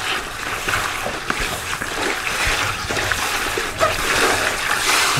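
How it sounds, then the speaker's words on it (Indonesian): Vegetables being rinsed by hand in a basin of water, with steady splashing, sloshing and dribbling running continuously and close up, no voices over it. "Tak cuci lagi ya, padahal ini tak cuci bersih loh kemarin."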